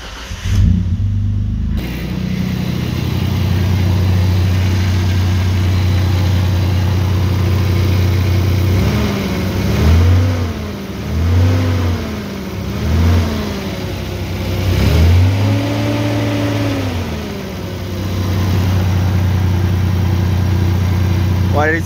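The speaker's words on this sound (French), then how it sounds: "Et tac, on va retenter un petit démarrage." Nissan Skyline engine starting up, then settling into a steady, loud idle with several blips of revving that rise and fall before easing back to idle, close by.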